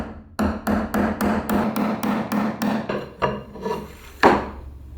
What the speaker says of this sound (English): finally chisel out the corners